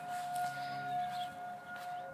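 A tornado warning siren sounds on a clear day, a faint, steady, sustained tone held at one pitch, seemingly far away and unbroken through the moment.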